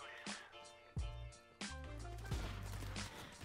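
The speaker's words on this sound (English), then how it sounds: "there are gonna be like a million grenades and flashes going off right now" Grenades and flashbangs going off in the game Call of Duty 4, several loud booming blasts in quick succession with ringing tails and gunfire-like bursts, no talk over them.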